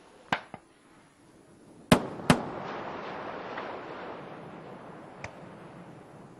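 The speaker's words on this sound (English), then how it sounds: "Sonic booms audible at the landing site." Space Shuttle Endeavour's sonic booms sound over the landing site as sharp distant cracks, a double boom followed by a rolling rumble and one later faint thud, with no talk.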